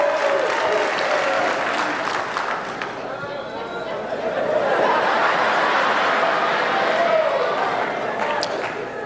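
A stand-up comedy crowd at a live show in Cincinnati applauds and cheers, with dense, sustained clapping filling the room for several seconds and a hint of whoops and laughter mixed in.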